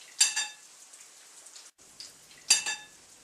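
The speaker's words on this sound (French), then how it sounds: "On trempe bien de chaque côté. Et on met à frire." Egg-dipped pieces of food frying in a pan, heard as two bursts of crackling spatter separated by a near-silent gap, fairly close and moderately loud, with no talking.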